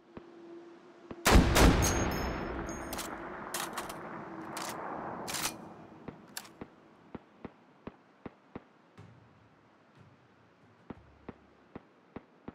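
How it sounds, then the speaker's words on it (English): Two heavy .50 caliber rounds fired in the VR game Hot Dogs, Horseshoes & Hand Grenades: a loud booming report with a long decaying tail, then a second blast, followed by sparse metallic clicks and ticks. "Gonna announce my departure by shooting off two 50 caliber rounds."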